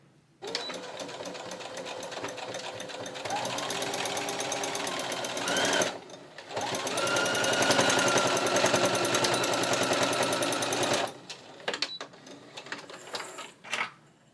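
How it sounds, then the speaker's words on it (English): A sewing machine stitches a clothing hem in long, steady runs of rapid mechanical chattering, close and loud, with one short pause midway and a few brief bursts near the end. "So let me go ahead and sew this together."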